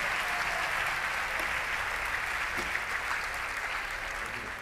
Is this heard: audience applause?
yes